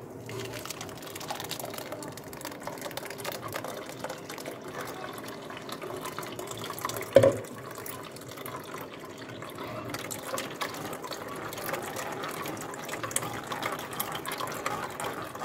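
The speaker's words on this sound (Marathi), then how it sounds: "आता मी हे ज्यूस गाळून घेते" Blended watermelon juice is strained through a sieve, giving a steady, moderately quiet trickle and pour of liquid throughout, with one brief bump partway through.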